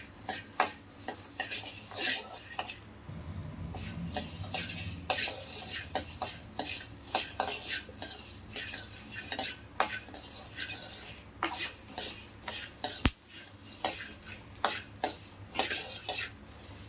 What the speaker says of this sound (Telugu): ధనియాలు కూడా అలానే లో టు మీడియంలో వేయించుకోండి